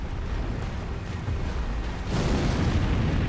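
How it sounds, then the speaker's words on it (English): An explosion booms in Elden Ring Shadow of the Erdtree, a loud rumbling blast that swells and grows heavier partway through, with no talk over it. "Right, that's the explosion."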